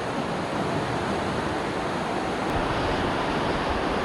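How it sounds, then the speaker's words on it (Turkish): River water rushes through the narrow Aareschlucht gorge in Switzerland as a dense, constant roar with no pauses, close and loud, and no voices over it. "Kanyonun arasından akan su hayat vermeye doğru gidiyor."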